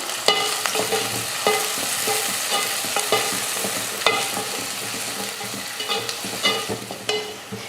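Chopped shallots and six or seven garlic cloves sauté in a pan, a steady sizzle broken by repeated scraping stirs and clinks of the spoon, close and fairly loud with no one talking.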